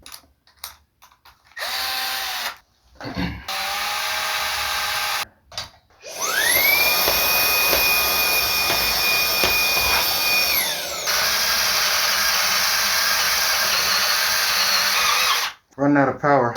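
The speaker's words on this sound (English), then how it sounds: "I need a more powerful drill." A battery-powered electric drill running low on power bores new holes, with short stop-start bursts followed by a long, steady high whine that winds down, then another brief burst.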